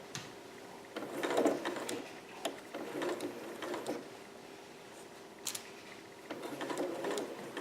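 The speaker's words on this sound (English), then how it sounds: "I'm just going to do a regular basting stitch right on top of those pins" A sewing machine runs a basting stitch over pins in fabric for a Vogue 8280 garment, with short bursts of mechanical whirring and ticking separated by pauses, close and fairly quiet, with no voices.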